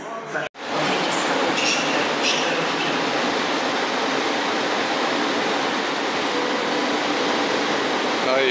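An express train rushing through Kraków Główny station with a loud, sustained roar and rumble after a brief sharp knock at the start, filling the whole stretch.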